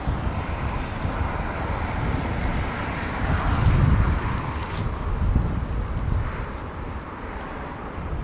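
A jet airliner on approach to Heathrow in gusting storm wind, its low broadband roar steady and swelling slightly midway, mixed with buffeting wind noise across the microphone, no voices.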